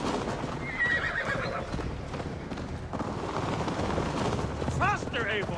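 A horse gallops and whinnies in Assassin's Creed Valhalla, steady clip-clop of hooves running under a continuous rumble, with a sharp whinny near the end and game voices speaking over it.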